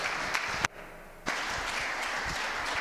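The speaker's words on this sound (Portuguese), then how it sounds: "Vamos aplaudir pela vida desses irmãos." A church congregation applauds in a burst of broadband clapping that breaks off briefly and then resumes, steady and moderately loud, with no talking.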